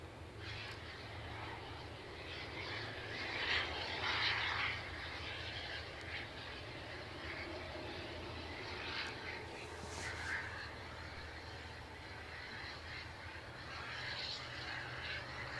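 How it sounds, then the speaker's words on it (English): An EasyJet airliner lines up on the runway at Edinburgh Airport, a faint, distant steady engine hum with a low drone and occasional brief higher whines rising over it. "we've got an EasyJet just about to line itself up"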